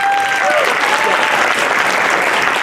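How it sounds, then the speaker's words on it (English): A dense, loud wave of applause from a large audience at a game show at a furry convention, steady clapping with a faint musical tone fading out at the start. "Round of applause for our players."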